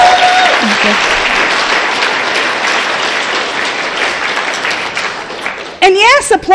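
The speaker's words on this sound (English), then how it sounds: "And yes, applaud that." Audience applause from a recovery talk crowd fills most of the stretch as steady, dense clapping, with a brief voice near the start and louder talking breaking in near the end.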